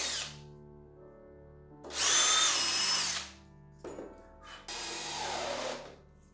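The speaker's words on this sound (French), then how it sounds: "Je vais percer dans la lambourde parce que sinon tu peux être sûr qu'elle va fendre." A power drill bores into a wooden joist in three close bursts, whirring up loudly with short pauses between runs.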